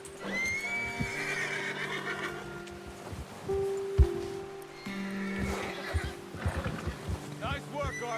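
A horse neighs in the Red Dead Redemption 2 video game, with a drawn-out whinny and hoof thuds over a low ambient drone, while people talk throughout.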